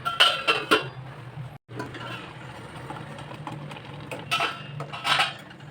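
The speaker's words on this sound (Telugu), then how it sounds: "వేగేంత వరకు దీనికి ఒక మూత పెట్టాలి." A lid set onto a pan of onion paste frying for spinach curry, a cluster of close metallic clinks and clatters at the start, then a steady soft frying hiss with a few more faint clinks near the end.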